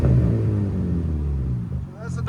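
A 2025 RAM RHO with the 3.0L Hurricane inline-six and Dynomax Race Bullet exhaust gives a short, deep, loud rev that fades as a voice talks over it.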